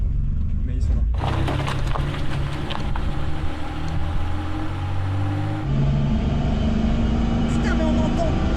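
Loud, droning cabin noise inside a custom-built BMW E30 330i with a Rocket Bunny body kit on the move: a steady low engine hum with rattling vibration, shifting in tone partway through, with muffled voices over it.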